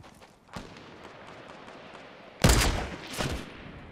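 Fortnite gunfire: a single faint shot, then a louder, closer burst of several rapid shots, with a quieter echoing shot after it, over a low background hiss.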